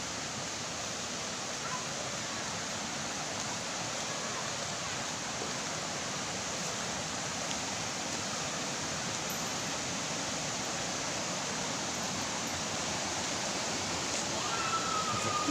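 A river flows past in a steady, unbroken rush of water, dense and even, filling the whole scene at a moderate level without pause.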